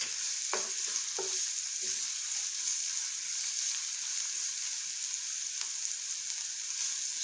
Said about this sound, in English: Allow this to saute.